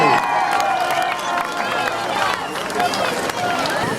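A crowd applauds and cheers for Plungė Ryto primary school at an outdoor town festival, a steady wash of clapping and babble over a loudspeaker voice.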